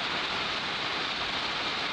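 Rain falls during a ride on the Siloé aerial cable car in Santiago de Cali. It makes an even, continuous hiss that holds steady, and no voices are heard.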